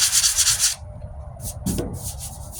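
Coarse 40 and 60 grit sandpaper rubs over a 1998 Ford Ranger passenger-side wheel arch repair in steady close scraping strokes, pausing briefly before a few shorter rubs resume.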